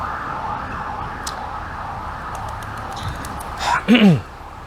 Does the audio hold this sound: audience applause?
no